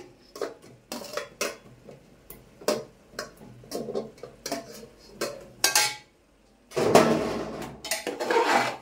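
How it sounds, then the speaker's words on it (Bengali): Spoon scraping and clinking against a pot while mutton curry with potatoes is stirred, a series of sharp close metallic knocks and scrapes with short pauses, then a louder sizzling stir near the end. "একটু নাড়াচাড়া করে নিই।"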